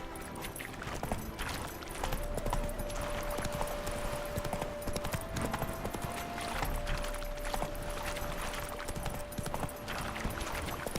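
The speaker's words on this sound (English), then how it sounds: "Come on, Roach." Hooves of the horse in The Witcher 3 clip-clopping in a steady trotting rhythm, moderately quiet, over continuous game ambience and a faint sustained tone.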